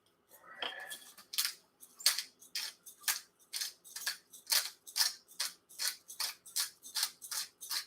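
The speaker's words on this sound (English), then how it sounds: "And yeah, it's a grinder." A hand pepper grinder cracks a peppercorn medley in a regular series of crisp, gritty bursts, each twist a short scratchy crunch, heard close and fairly quiet with brief pauses between turns.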